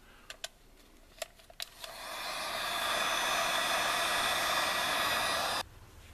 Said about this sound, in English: I'm going to hit them with a heat gun real quick just to make sure they're completely dry